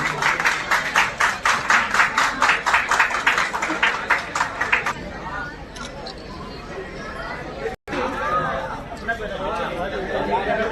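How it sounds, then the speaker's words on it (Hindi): A crowd at a Run for Unity event welcome, honouring Sardar Vallabhbhai Patel, claps in loud, steady rhythmic unison for about five seconds. Then the clapping fades into a murmur of crowd chatter and voices talking. "जोरदार तालियां बजती रहिए"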